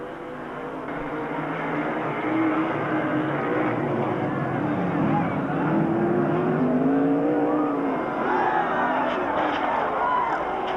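Sprint cars racing on a West Coast track in 1991, several engines roaring and revving together in a steady, loud drone with pitch sweeps as cars pass, a commentator's voice faintly under the din.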